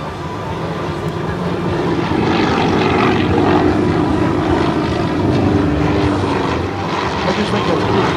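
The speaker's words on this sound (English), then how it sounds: "all aircraft will roll into the upright Vic formation" Aerostars formation aircraft passing at the 2011 NAS Pax River air show, a loud, steady propeller engine roar that holds throughout with a slight swell as they go by, with a faint voice beneath.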